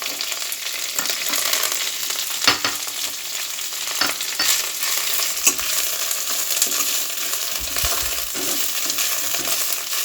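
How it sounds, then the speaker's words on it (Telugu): Fresh coriander leaves frying over low flame with dried red chillies for a coriander chutney: a constant close sizzle with occasional ladle scrapes and light taps. "ఇప్పుడు కొత్తిమీరను వేసుకుని ఫ్రై చేసుకోవాలి"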